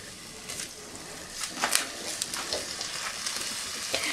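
Pancetta frying in a pan, a soft, steady sizzle with scattered crackles and spits popping through at a quiet level.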